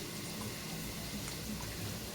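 Tap water runs continuously over a bunch of sombu keerai (dill greens) being washed in a kitchen, a steady, close rushing splash with no break.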